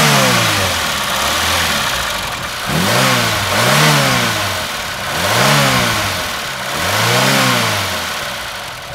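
A Ford RS2000 Mark II engine revs repeatedly, with four rising and falling blips of throttle over a steady rumble, loud and close, with no talk.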